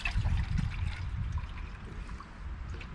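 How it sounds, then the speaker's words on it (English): Water poured into a Toaks titanium cook pot for coffee at a bushcraft ridgeline camp, a close, steady splashing trickle that is fuller at the start and eases slightly as the pot fills, with no talking. "I'm just going to fill that up with a bit of water to make my coffee with."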